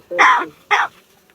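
Two short, harsh coughing bursts in quick succession from a crow mimicking a cough, followed by quiet.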